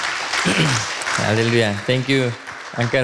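Congregation applause at a Sunday Hindi church service, a steady wash of clapping running beneath a voice speaking throughout.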